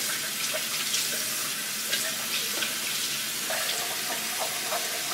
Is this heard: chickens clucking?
no